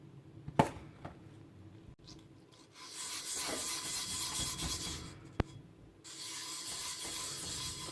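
Steel wool scrubbed over a vintage Swemab coffee pot from Sweden, giving close hissing rasps in sustained bursts, with a few sharp metallic taps between strokes.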